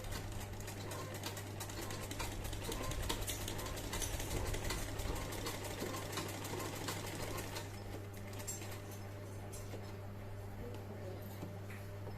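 Sewing machine stitching a shirt collar, a continuous close mechanical hum with a steady low drone and rapid needle chatter running throughout at an even level.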